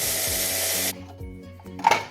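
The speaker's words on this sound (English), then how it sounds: "our cinnamon into our food processor. We're just going to blitz that up until it forms quite a coarse crumb." A food processor blitzes nuts and cinnamon into a coarse crumb for baklava, a loud whirring roar that cuts off after about a second, followed by quieter rattles and a brief clunk.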